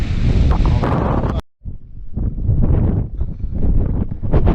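Strong wind buffets the microphone in heavy, uneven roaring gusts during a cycling trip, briefly dropping out before surging again in choppy bursts.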